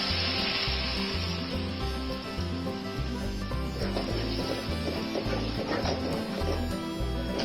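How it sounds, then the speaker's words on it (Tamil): Goat blood poured into a hot pan over half-cooked ingredients is stirred and fried, making a continuous close sizzle with scraping stirs over a low, steady rhythmic background. "இப்போ நம்ம பிசைஞ்சு வச்ச ரத்தத்தை இதுல ஊத்தி கிண்ட ஆரம்பிச்சிடலாம்."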